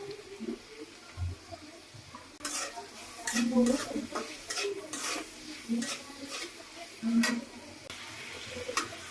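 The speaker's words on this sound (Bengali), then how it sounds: "এবার আমি এটার সাথে এটা আরো কিছুক্ষণ ভাজাভাজি করবো।" Noodle ingredients with egg and potato are stir-fried in a pan, soft sizzling broken by repeated sharp scrapes and knocks of a spatula against the metal, close and irregular.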